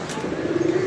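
A pigeon gives a single short, low coo near the end, close by, over a soft ambient hum.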